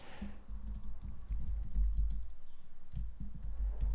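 Rapid, steady clicking of a computer keyboard as a full name is typed into an account sign-up form, with close, continuous keystrokes throughout and no voices.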